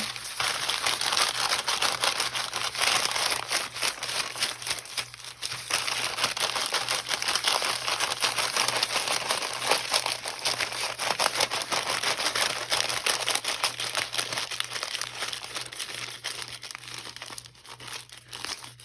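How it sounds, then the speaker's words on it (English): Paper or similar craft material being rolled and crumpled by hand for a 3D mixed media flower, a steady close crinkling and crackling that runs almost without pause, with no talking. "I'm starting to roll and crumple"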